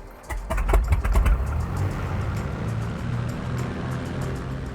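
A simulated Cessna 207 single-engine propeller plane starts up in Microsoft Flight Simulator 2020: a few sputtering cranks give way to a steady, droning engine rumble close by.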